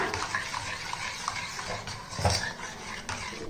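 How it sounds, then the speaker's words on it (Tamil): Ragi mixture being stirred with palm sugar and powdered cardamom in a pot, giving a steady close scraping and clinking of utensil against vessel, with no speech. "இப்போ இதை எல்லாத்தையும் நல்லா மிக்ஸ் பண்ணிக்கிருவோம்ப்பா"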